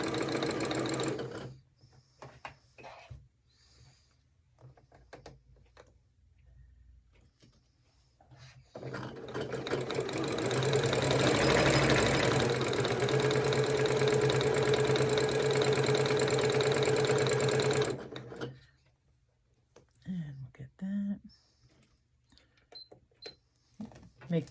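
A sewing machine stitching fabric for a cuddle scarf, starting with short bursts and then running at a steady, loud, continuous whir for several seconds before stopping, with a few faint handling clicks around it.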